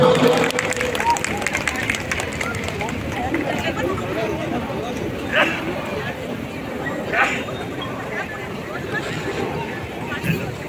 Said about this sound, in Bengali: একটা জোরে করতালি সকল অতিথিদের জন্য।